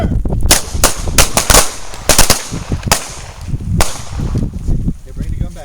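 Pistol gunshots on a self-defense shooting drill, about a dozen sharp loud cracks fired singly and in quick pairs at an uneven pace, with short shouted commands between shots.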